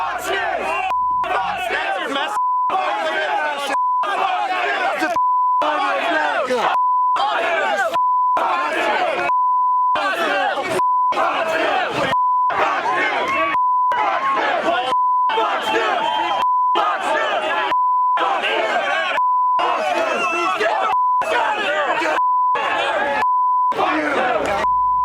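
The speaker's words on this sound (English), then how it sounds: "they have to bleep out every second and a half, every millisecond" A mob swarming Fox News shouts and chants in a loud, dense crowd roar, chopped every second or so by a steady censor bleep tone that repeats throughout.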